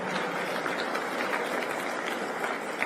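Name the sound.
audience applause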